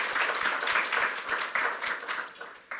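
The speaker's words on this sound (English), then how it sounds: "Round of applause." Applause from a banquet crowd at a law school alumni awards dinner, a warm, close round of many hands clapping steadily for about three seconds with a few louder bursts.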